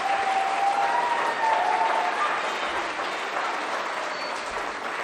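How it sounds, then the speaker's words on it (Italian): Audience applause for a swimming club at a sports presentation event, a steady dense clapping from a crowd that carries loudly for the full length, easing slightly toward the end. "Un bel applauso al nuoto."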